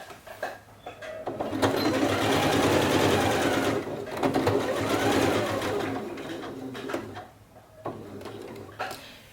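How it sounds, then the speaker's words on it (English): A sewing machine stitches fabric along a seam allowance while sewing a built-up collar neckline, running in steady close bursts with a brief pause between runs and soft handling noises at the ends. "So I'm going to stitch it and just follow my seam allowance just like this."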